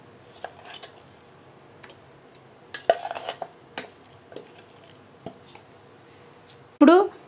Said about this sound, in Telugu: ఇప్పుడు ఈ పచ్చడిని ఒక బౌల్లోకి తీసుకుందాం